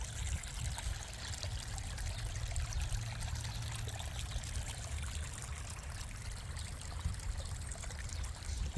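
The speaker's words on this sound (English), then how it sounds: "Look at this water." Meltwater from rain and snow pours and trickles close by as a steady, quiet stream running continuously toward a drain, with no one talking over the flow.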